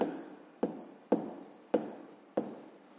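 Pen writing on paper while noting dates in a fifth-grade math exercise: five quiet, evenly spaced strokes that each start sharply and trail off into soft scratching, with no talk.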